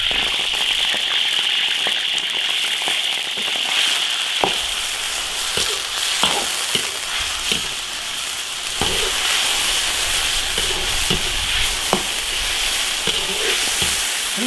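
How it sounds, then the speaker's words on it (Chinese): Meat slices sizzle in hot oil in an iron wok, a loud, continuous frying hiss studded with sharp pops and occasional stirring scrapes, heard alone without voices. "油肉片下锅，"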